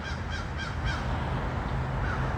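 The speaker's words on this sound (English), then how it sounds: "A murder of crows." Several crows caw in quick succession on a morning walk through a lakeside nature preserve, the calls fairly close and clear over a steady outdoor hiss with no talking.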